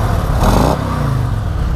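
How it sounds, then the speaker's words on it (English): Stock exhaust of a Harley-Davidson Fat Boy 114 motorcycle gives a deep, close rumble that swells briefly into a louder rev, then settles back to a steady idle. "it's got a little bit nice exhaust sound, even though it's a stock"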